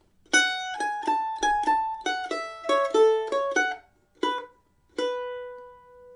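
Solo mandolin picks the two-bar second phrase of the Hesleyside Reel, crisp plucked notes in a lively reel rhythm with a short gap before the last sustained notes ring and fade; close and unaccompanied.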